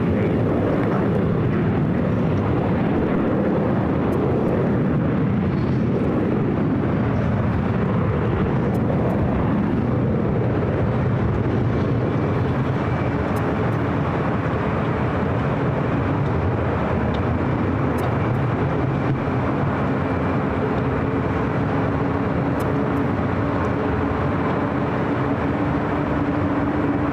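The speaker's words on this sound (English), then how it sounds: "Avianca Flight 523 heading back to San Salvador in this A320 in Neo." An Avianca Airbus A320neo jet at LAX gives a loud, continuous engine roar that holds steady throughout without fading, with no talking over it.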